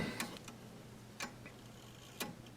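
A mechanical clock ticks steadily while its hands are being moved, with a few sharp broadband clicks standing out above a quiet, faint background of regular ticking.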